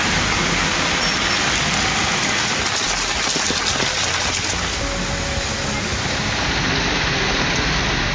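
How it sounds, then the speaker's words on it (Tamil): Heavy monsoon rain pouring in a city in Tamil Nadu, a loud dense continuous hiss of downpour striking surfaces, steady throughout with no voices. "நகரின் பல்வேறு பகுதிகளில் கனமழை பெய்தது."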